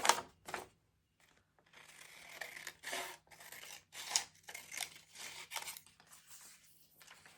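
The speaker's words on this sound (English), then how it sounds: "I'm gonna cut these strips." Scissors snipping through paper strips for a craft book page, a series of crisp close cuts in uneven bursts with short pauses between, quiet room and no speech.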